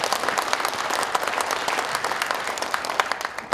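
Audience applause for two debaters at a Korean public lecture, a dense steady wash of many hands clapping through the whole stretch at moderate level, without talk.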